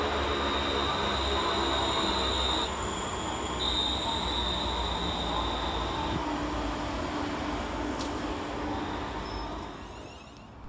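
A West Midlands Railway Class 350 electric multiple unit rolls into Tame Bridge Parkway station with a steady rumbling roar and a sustained high whine, then fades slightly at the end.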